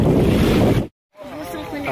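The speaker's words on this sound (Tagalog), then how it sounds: "Medyo humahampas yung alon." Loud rushing wind and surf roar close to the microphone by a pier in San Policarpo, Eastern Samar, cutting out briefly to silence before resuming with a lighter wash of water.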